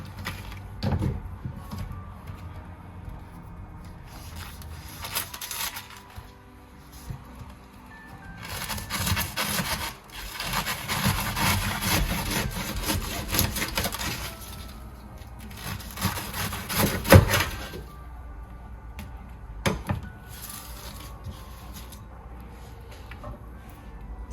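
A knife trims the tough outer leaves from a young artichoke, making intermittent close rubbing and scraping bursts with quieter pauses between them.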